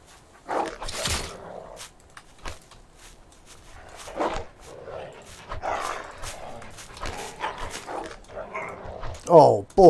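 Video game dogs chasing the player, with short barks and yelps scattered across the stretch, mixed with footsteps and game noise while someone talks over them.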